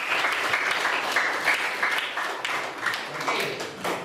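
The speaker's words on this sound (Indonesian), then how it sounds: "Tepuk tangan dulu untuk media kalian" Students clapping in a classroom during a mathematics lesson, a steady burst of many hands lasting several seconds with no talking.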